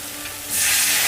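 Chopped onion fries in a pan as chili and coriander powder go in for a Rayalaseema-style country chicken curry; a soft sizzle swells halfway into a loud, steady hiss, close by with no voices.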